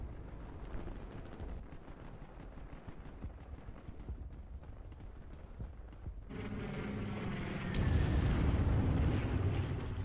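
Artillery fire against an anti-tank gun in the strategy game Panzer Corps, low rumbling booms building into a louder, sustained roar of impacts near the end, with no speech.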